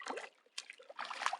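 A small brook near the south end of Double Lake in the Wind River Range trickles and splashes softly in short bursts, with brief quiet gaps between the watery patches.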